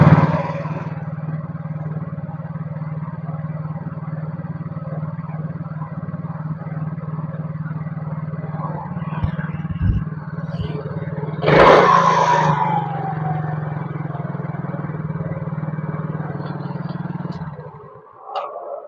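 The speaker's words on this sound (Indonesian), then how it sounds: "Kadang suara gasnya terlalu tinggi, kadang dia mati sendiri, kadang dia gede sendiri, kecil sendiri, ya itu enggak stabil ya." A Yamaha Mio GT motorcycle idles unstably with a steady droning engine note, then surges with a brief rev before the idle sags and nearly dies near the end.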